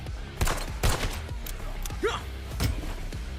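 Rapid video game gunfire rattles in repeated loud bursts, with sharp broadband cracks spaced through the moment and some chirpy effects mixed in.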